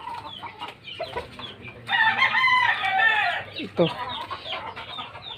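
A rooster crows loudly for about two seconds, with chickens clucking around it and someone speaking over the birds before and after the crow.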